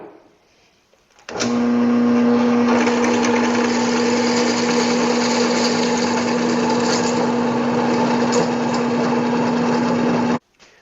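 A drill fitted with a brand-new bit bores into clamped, lubricated hardened steel, starting abruptly and running as a loud, steady high-pitched whine with a strong constant tone for about nine seconds before cutting off.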